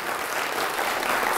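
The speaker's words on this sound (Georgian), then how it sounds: "აპლოდისმენტები მას" Studio audience at a Georgian school book-quiz show applauding a contestant, steady dense clapping throughout, fairly loud and close, with no talk over it.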